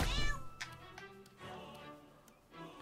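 A cat meowing in South Park: The Fractured but Whole, several short, tonal meows spaced across the clip, moderately close, with faint ticking and tapping game sounds between them and no talk.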